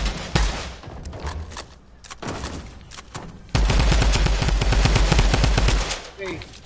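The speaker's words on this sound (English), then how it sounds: "Oh, the Tommy gun, dude." A Tommy gun firing in a video game, a few short bursts followed by a long sustained rapid-fire stream of loud, close shots, with voices talking over the gunfire at points.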